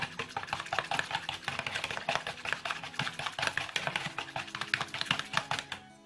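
A tiny whisk mixes sugar and yeast, giving quick, rapid clicking and tapping against the bowl in a steady rhythm that is close up and fairly quiet, with no talking.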